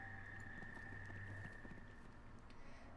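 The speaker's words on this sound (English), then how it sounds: "The sound of your horse's hooves disturbs an old soldier from his small farmhouse." Horse hooves clip-clopping at a walk in the fantasy video game Disciples: Liberation, faint steady hoofbeats under a low ambient music drone.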